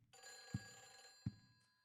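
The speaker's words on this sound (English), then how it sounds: "then the phone rings." A telephone rings faintly in the survival horror video game Silent Hill 4: The Room, with a sustained ringing tone broken by two dull thumps against a quiet background.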